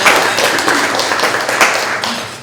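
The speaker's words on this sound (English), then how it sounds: "How a round of applause for that." A round of applause from a room of guests at a businesswomen's luncheon, dense and steady clapping throughout, fairly loud and close.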